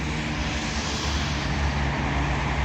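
British Airways Airbus A321neo landing at London Heathrow at night: a loud, steady broadband roar of jet engines with a low rumble, close by and continuous.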